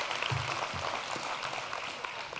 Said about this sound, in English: Give my son Peter a round of applause.